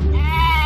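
A short, loud bleat from a baby goat at a farm in Wisconsin, a brief wavering cry heard close up.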